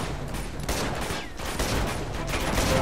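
Gunfire in the video game Uncharted 2 during a firefight in Borneo, with shots including shotgun blasts, a continuous noisy barrage of shots and impacts with no clear pauses.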